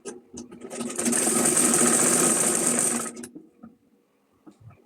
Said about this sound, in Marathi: खालच्या साईडनं आपल्याला 2 इंच मार्जिन सोडून आडवी शिलाई घ्यायची आहे.